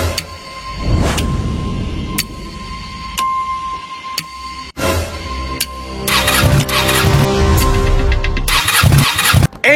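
A motorcycle is kicked into life: a few sharp clicks and mechanical ticks, then a burst of engine cranking and a rising mid-pitched idle that continues loud and close toward the end.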